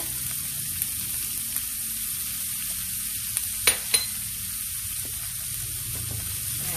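Pepper sizzles in hot oil while pancit canton noodles, vegetables and squid balls fry; a steady close hiss runs throughout, broken by a couple of sharp crackles near the middle.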